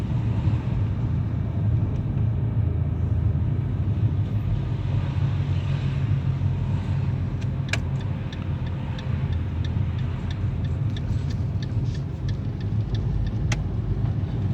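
A car pulls away in first gear on a driving lesson course, with a steady low engine and road rumble heard from inside and occasional faint clicks over it.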